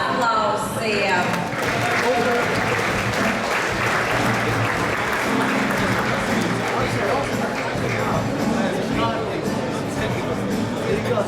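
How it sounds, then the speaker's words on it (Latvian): A crowd applauds award laureates at a moped championship prize ceremony, steady dense clapping holding at an even loud level throughout with faint crowd murmur beneath. "Gaidām laureātus ar aplausiem."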